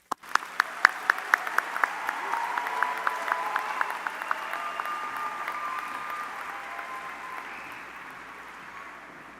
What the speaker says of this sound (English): Let's give them a large round of applause to get them started.